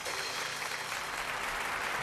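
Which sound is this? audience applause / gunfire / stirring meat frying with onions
audience applause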